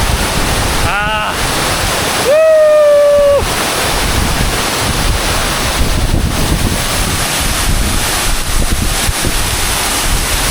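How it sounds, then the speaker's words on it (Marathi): Loud, steady roar of a tall monsoon waterfall in Sindhudurg, Konkan, a broad wash of falling water filling the whole clip, with a brief voice-like tonal call rising over it near the start. "एकदम मोठा वॉटरफॉल आहे खरंच. खूप उंच आहे."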